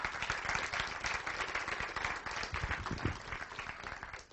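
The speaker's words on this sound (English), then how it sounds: "And I'd just like if we could give Daniel a round of applause for having done that." Applause from a conference audience at a biostatistics meeting, a modest crowd clapping steadily and fairly quietly for several seconds without speech.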